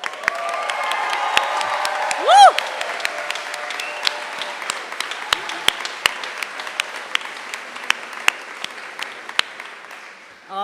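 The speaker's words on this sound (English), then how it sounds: "One last round of applause." Audience applause at the Geisel School of Medicine at Dartmouth white coat ceremony for the Class of 2029: steady, moderately loud clapping from a large seated crowd, with one bright whoop early on and crisp individual claps throughout.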